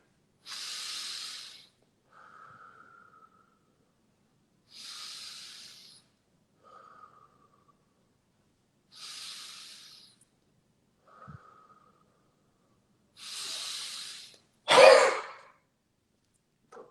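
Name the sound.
deep breathing then huffing cough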